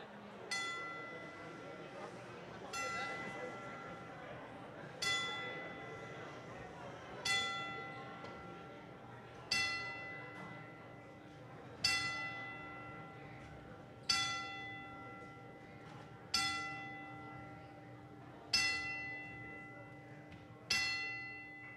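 A boxing ring bell tolls ten times at a fight night memorial, each strike ringing clearly with a long decaying tail, spaced about two seconds apart over a soft room murmur.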